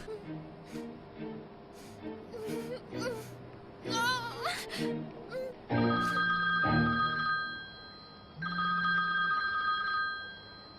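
A telephone rings repeatedly in a domestic scene, its electronic tones mixed with music and overlapping voices, becoming clearer and steadier in the second half.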